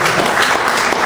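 Audience applause at an evening event sponsored by the Racine Public Library, a dense, loud wash of many hands clapping at once.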